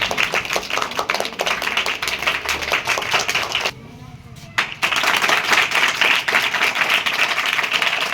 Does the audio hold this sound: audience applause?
yes